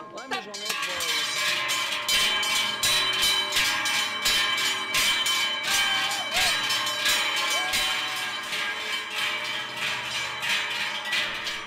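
Many handheld cow bells rung by a crowd of bell ringers in the Chablais, imitating a cattle transhumance, clang continuously in a dense, loud, overlapping jangle close by.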